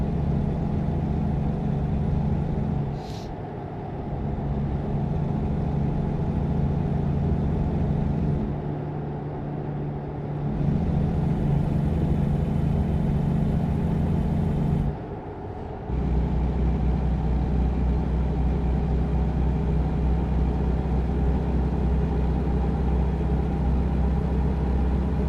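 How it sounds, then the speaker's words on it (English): A loud Volvo VNL 780 truck engine runs with a steady, heavy drone and shifts in pitch a few times, as if changing gear or load, heard from inside the cab. "I don't know why this truck is so loud"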